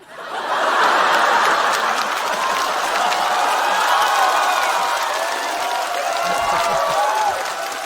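A stand-up comedy audience applauds and laughs in a hall. A dense wave of clapping rises quickly, holds for several seconds with scattered chuckles mixed in, then tapers slightly toward the end.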